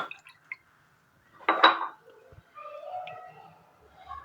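Water is poured into a pan to start sugar syrup for gulab jamun, a short splashing pour with a faint clink near the middle, then quiet kitchen sounds.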